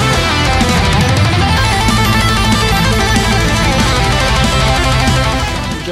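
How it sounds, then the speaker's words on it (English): A fast electric guitar solo from a metal song, dense and distorted over pounding drums and bass, plays loud and continuous throughout without any voice. "Sounds like this guitar solo is never going to end."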